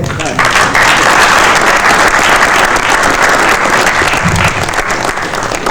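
An audience at an Italian science-fiction convention in Courmayeur breaks into loud, sustained applause that fills the room, dense clapping holding steady for several seconds after a brief lead-in.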